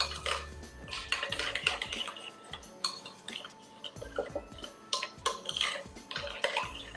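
Spoon stirring paprika, cumin and coriander into yogurt in a bowl, with repeated close clinks and scrapes against the bowl and soft wet squelching in an irregular rhythm.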